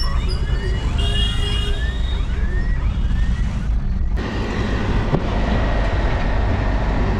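Steady loud rumble of a train rolling past close by near the Atal Setu sea bridge, with squealing wheel tones early on and continuous rail clatter throughout.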